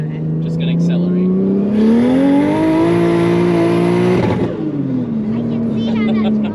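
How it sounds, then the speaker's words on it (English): A Toyota JZX100 fitted with a Garrett turbo and Artec parts pulls hard in second gear, the engine note rising loud and steady with a high turbo whine, then easing off, while people talk over it. "Oh, no, I'm only doing a little second gear pull. Ready? Okay. Just gonna accelerate."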